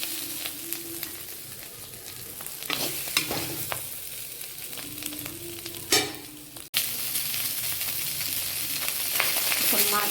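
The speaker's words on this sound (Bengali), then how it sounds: "আলু বেগুন সিমের বীজ ভাজা হলো" Potatoes, eggplant and bean seeds fry in a pan with a steady close sizzle and crackle, broken by scraping stirs and a brief sharp clatter before the frying resumes a little louder.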